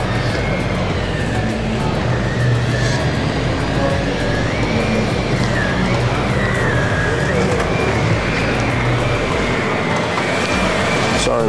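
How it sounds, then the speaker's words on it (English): A loud, steady whooshing drone from a vacuum cleaner fills an indoor car show hall, continuous and close, with a wavering higher whine on top and people talking underneath. "Sorry about the vacuum noise there, Louise."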